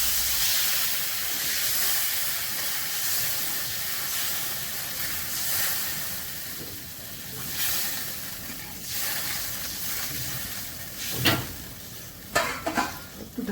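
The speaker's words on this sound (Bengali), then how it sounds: "মশলা কষানো হয়ে গেছে, জল দিয়ে দিচ্ছি" Water poured into sizzling fried masala for a kala jeera fish curry sets off a loud, continuous steamy hiss and sputter, with a few sharp bursts and pan clatters toward the end.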